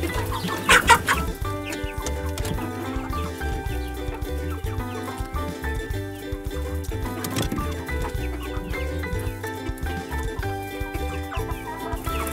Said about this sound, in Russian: А цыплятка тоже хотят травки. Смотри, как их много.